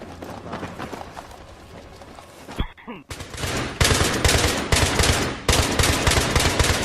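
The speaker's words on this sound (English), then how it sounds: "set your gun to full auto and tap fire everything on this wall" Full-auto gunfire in a video game, tap-fired at a wall: after a brief quiet gap, loud rapid bursts of shots crackle in quick succession and keep going to the end.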